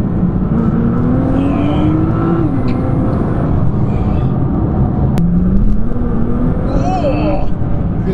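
A tuned Nissan GT-R accelerating hard on track, its engine rising in pitch through the gears with brief drops at shifts as the rear wheels lose traction, loud and close with a voice talking over it.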